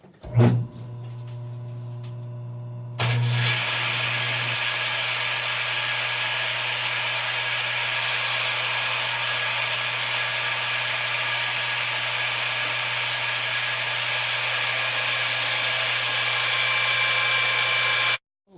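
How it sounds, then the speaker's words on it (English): A power drill boring holes into the top of a fabricated cap rail, a steady loud whine running continuously for most of the clip after a brief short burst at the start. "I'm going to drill some holes to attach the cap rail. I just drill the holes in the top."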